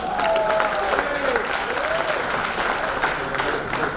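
A club audience claps continuously in a thick, even wash of applause, with voices calling out over it in the room.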